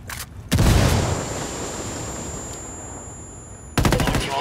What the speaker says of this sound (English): Grenade, get to cover!